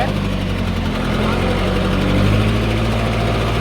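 A JCB engine runs loud and close, a steady diesel rumble that swells slightly as it is revved. Voices talk over it.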